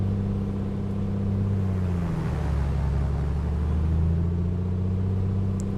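Piper Comanche 250 engine at run-up in the A2A flight simulator, a steady loud propeller drone that dips and shifts pitch midway as the props are cycled, then settles back, with no talking.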